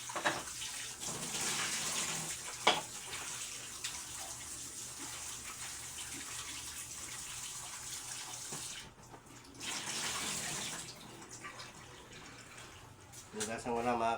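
Fish being washed under running tap water, a continuous splashing rush with brief drips and handling noises, moderately close, with a short pause midway and a voice speaking faintly over it.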